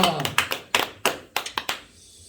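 Hands clapping in a church congregation at a Korean prayer meeting, heard as a few separate sharp claps in an uneven rhythm rather than a full round of applause, close and moderately loud, with some talk around them.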